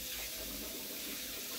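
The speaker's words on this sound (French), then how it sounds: "Je les rince." Tomatoes are rinsed under a running kitchen tap, a soft, steady hiss of flowing water heard faintly and without interruption.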